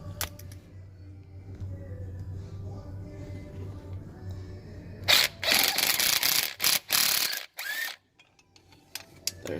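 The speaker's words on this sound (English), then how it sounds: "So it's good to use the impact or the ratchet." A ratchet loosens an 8mm bolt on the starter of a Chevy Tahoe with a 4L60E transmission, giving quick bursts of clicking, close and loud, after a quiet stretch of faint shop hum.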